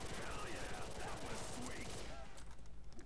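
Dense rapid gunfire in Call of Duty custom zombies, a continuous rattling fusillade of shots with game sounds and a voice layered underneath, loud and busy throughout.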